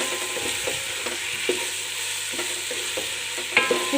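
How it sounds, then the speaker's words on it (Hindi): Julienned capsicum sautés in a pan, a continuous light sizzle broken by repeated scraping stirs of a spatula, close up and with no talking. "अब कैप्सिकम, इसको भी 1 मिनट के लिए सौते कर लेते हैं।"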